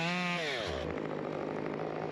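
A chainsaw used during tree climbing runs loud and close, its engine revving up in pitch and then settling into a steady, rough high idle.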